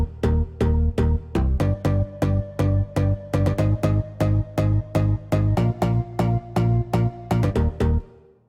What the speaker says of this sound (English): the bass sound is made up of 4 layers